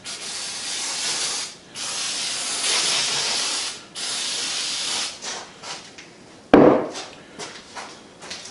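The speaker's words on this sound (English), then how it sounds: "Got our friend carburetor cleaner." Carburetor cleaner sprays out in several long hissing bursts of a second or two each, with short pauses between, close by while a metal shaper is being cleaned, ending in a sharp clatter and a few brief spritzes.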